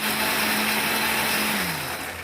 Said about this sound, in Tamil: இப்போ இதை வந்து கிரைண்ட் பண்ணிக்கலாம் நம்ம.